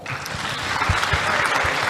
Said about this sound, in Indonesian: Tepuk tangan buat Forza ini.